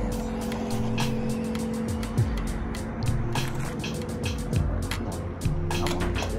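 DEERC HS14331 remote-control car drives nearby with a whirring electric motor that rises and falls, with scattered ticks and clicks over a continuous background.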